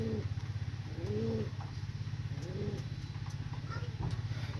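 A single pigeon gives a few soft, faint coos, spaced about a second apart, over a steady low mechanical hum and light background noise.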